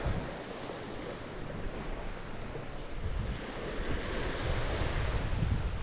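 Surf washes steadily onto a tropical saltwater beach, a broad continuous roar of breaking waves with wind buffeting the microphone throughout.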